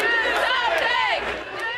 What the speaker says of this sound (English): That's a crowd at a vigil for shooting victims in Dayton last Sunday night